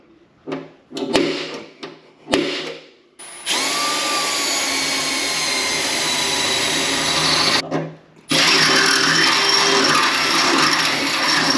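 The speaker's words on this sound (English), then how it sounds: "let's go ahead and drill for this riv nut" Two short bursts from a power drill drilling a hole for a rivet nut on a 1992 Firebird, then a long steady high-pitched whir that pauses briefly and starts again, close and loud.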